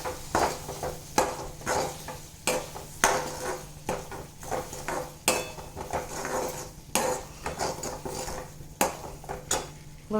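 A spoon stirs crushed green chili, salt and turmeric in a pan, making repeated metallic clinks and scrapes at an irregular rhythm over a soft, steady sizzle.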